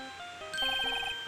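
A brief electronic phone ringtone in the Phoenix Wright game, a short melodic run of bright beeping notes over quiet background music, with no voices.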